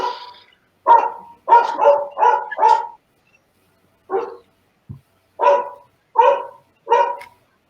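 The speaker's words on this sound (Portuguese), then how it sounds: "Tem um cachorrinho aqui." A small dog barks in repeated bursts, mostly loud and close, with short pauses between groups of yaps and no talk over it.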